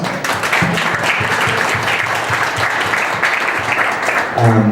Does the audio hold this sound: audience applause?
yes